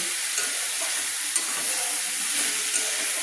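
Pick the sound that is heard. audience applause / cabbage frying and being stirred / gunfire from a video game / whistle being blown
cabbage frying and being stirred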